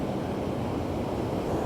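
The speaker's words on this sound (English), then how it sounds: "some of these waves coming in are just massive" Massive ocean waves rolling in at sunset, a steady broad roar of surf blended with wind noise on the microphone, continuous and close, with no voices.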